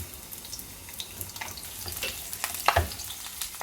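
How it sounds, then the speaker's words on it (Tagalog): Onion rings frying in a pan, a soft steady crackle and sizzle with scattered pops, near and fairly quiet, with no talk. "pwede nating prito rin yung ating onion ring"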